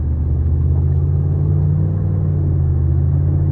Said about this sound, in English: It accelerates well.